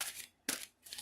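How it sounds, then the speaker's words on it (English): A deck of oracle cards being shuffled in two close, crisp riffling bursts separated by a short pause, with a third burst starting at the end; no voices. "you should be able to hear me shuffling these oracle cards"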